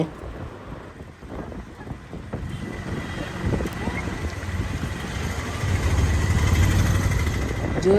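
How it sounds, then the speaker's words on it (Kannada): Strong wind roars steadily with a low rumbling auto-rickshaw engine beneath, growing louder toward the end; faint scattered patter of large first-rain raindrops mixes into the blustery noise. "ಜೋರಾಗಿ ಗಾಳಿ ಬೀಸ್ತಾ ಇದೆ ದೊಡ್ಡ ದೊಡ್ಡ ಹನಿಗಳು ಬೀಳ್ತಾ ಇದೆ"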